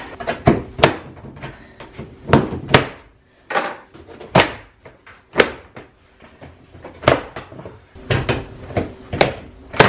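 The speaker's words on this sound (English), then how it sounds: "now we can pop the door off" Door panel clips on a Chevrolet Silverado snapping loose as the panel is pried off, a series of sharp plastic cracks and knocks in uneven bursts, close and loud in a quiet garage.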